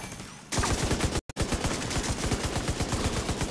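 Rapid automatic gunfire in the Division 2 video game, a dense, steady stream of close, loud shots broken by a brief pause, then continuing at the same fast rhythm; no voices.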